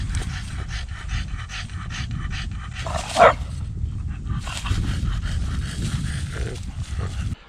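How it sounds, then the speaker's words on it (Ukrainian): Dogs pant heavily and rapidly up close after running on a winter walk, with a single short bark in the middle and rustling movement around them. "І собаки набігались."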